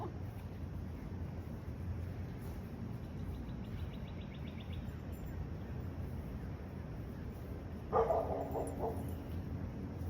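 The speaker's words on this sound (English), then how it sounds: "sorry about the barking dogs." Dogs barking in the background while a dog is walked on a leash outdoors, a short burst of distant barks near the end over steady wind and ambient noise.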